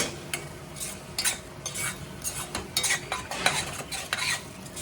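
Onions sautéing in a pan for bitter gourd curry, a steady low sizzle broken by repeated scraping stirs of a spatula against the metal, close and moderately loud, no talking.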